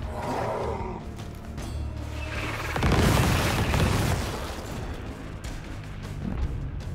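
Grenade explosions in the video game Gears Tactics, a loud roaring boom that swells near the middle and rumbles on, set among battle noise with no talk.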